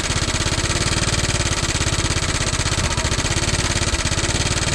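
A broken-down vehicle's engine idles loudly with a rapid, even knocking rhythm from its noisy drive belt, heard close and steady with no talk.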